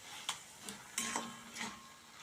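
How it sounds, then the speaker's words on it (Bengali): A spoon or spatula stirs poppy seed and onion paste into cooking bathua greens in a pan. Several soft, faint scrapes and clinks come in an uneven rhythm over a quiet background. "এবার এটা ভালো করে নেড়ে দেব"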